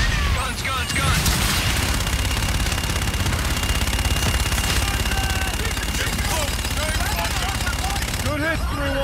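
Machine-gun strafing run in Call of Duty Infinite Warfare: loud, dense, continuous rapid gunfire with booming impacts, under radio voices talking.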